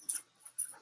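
A dog dressed up in a Winnie the Pooh costume lets out two short, faint whimpers, each a brief high whine with a quiet gap between them.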